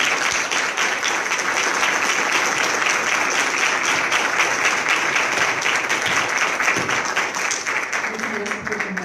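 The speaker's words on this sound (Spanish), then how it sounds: "Le damos un aplauso, por favor." Audience applause at an inclusive education meeting, a steady dense wash of many hands clapping that holds evenly loud for the whole stretch.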